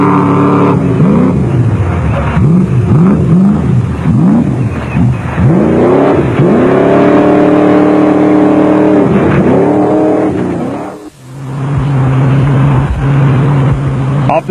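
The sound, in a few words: Jeep Cherokee off-road rally car driving the course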